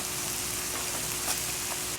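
Beef lo mein noodles hit a hot pan, a steady, close sizzle with light tossing scrapes, with no voices.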